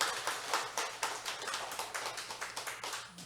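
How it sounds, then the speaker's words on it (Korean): A church congregation claps in welcome at a Sunday service, a steady run of distinct handclaps sounding at a quick, even rhythm, fairly quiet and with no talk over it. "우리 박수로 우리 한번 환영할까요?"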